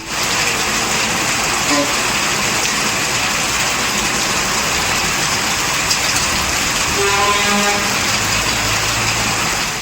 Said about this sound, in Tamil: வளசரவாக்கம் ராமாபுரம் போரூர் உள்ளிட்ட இடங்களில் கனமழை வெளுத்து வாங்கிய நிலையில்